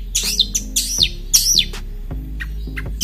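A long-tailed shrike (cendet) sings close and clear, repeating sharp sweeping chirps and whistles in quick bursts over a low steady hum.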